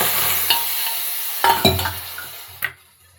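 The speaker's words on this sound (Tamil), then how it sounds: "இதை நல்லா கிளறிடலாம்." A spoon stirs sugar and water in a pan on the stove, giving soft scraping swirls with a few sharp metallic clinks against the pan over a light sizzle.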